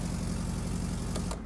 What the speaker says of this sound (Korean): 뭐 솔직히 4기통 엔진이기 때문에 살짝 그 배기음이 아쉬울 수는 있습니다